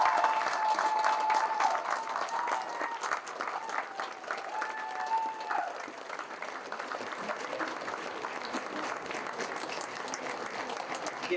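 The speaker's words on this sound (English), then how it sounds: "But give him one more round of applause for all that he shared tonight." A live audience breaks into sustained applause for a speaker who lost his legs, loud and steady at first and tapering slightly while it continues, with a few faint voices mixed into the crowd.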